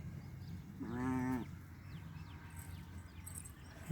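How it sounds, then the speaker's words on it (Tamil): A single sheep in a flock of Semmari sheep gives one short, wavering bleat nearby, heard alone against quiet outdoor background, followed by a soft thump at the end. "இந்த பக்கம் ஒரு ஆடு கத்துச்சு"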